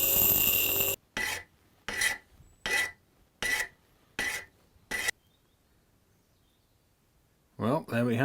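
A hand file rasping on a metal engine part during a scrap repair, seven distinct close strokes in steady rhythm, then a pause and a brief voice at the end.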